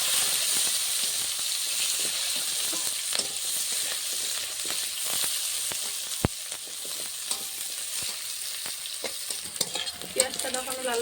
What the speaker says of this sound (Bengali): পেঁয়াজটা তখন লাল লাল করে ভেজে নিয়েছি।